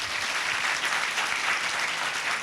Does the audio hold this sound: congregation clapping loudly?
yes